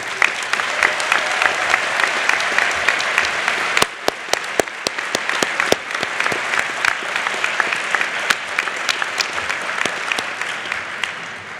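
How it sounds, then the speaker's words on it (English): A large crowd applauds at a Penn Dental Medicine commencement, a loud, sustained round of clapping that fills the whole stretch with sharp individual claps standing out, no talk over it. "Now, a round of applause"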